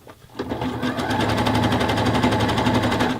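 A sewing machine stitches down bra strap elastic, running in one steady, continuous, close-up burst of rapid needle strokes after a brief quiet start.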